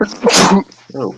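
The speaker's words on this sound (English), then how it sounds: "Just after I sneezed." One sharp, close sneeze bursts out loudly in the middle, framed by brief bits of a voice talking just before and after.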